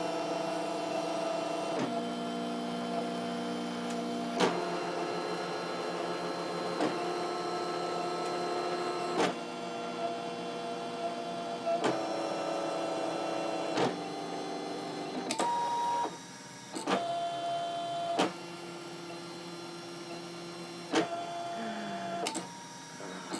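A Brother ScanNCut machine cuts a shadow box design with a whirring, electronic printer-like hum. The hum comes in stepped tones that shift every few seconds and are broken by brief clicks and pauses, close and steady, with no talk.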